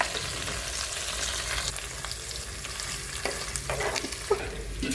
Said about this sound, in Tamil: ஸோ இதை போட்டுட்டு இதுவுமே கொஞ்சம் நல்லா ஃப்ரை ஆகணும் எண்ணெயில்.